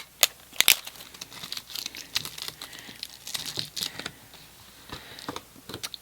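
Sticky adhesive tape is pulled, torn and pressed down while making a folded flat pillar window card, giving crinkly rips and small crackling bursts, fairly close and moderately loud, with no talk.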